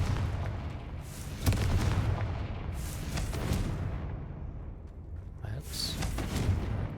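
Confringo blast spells erupt as booming explosions in Hogwarts Legacy while a voice talks over them, with bursts of crackling debris between the blasts amid a spider-web cleared area.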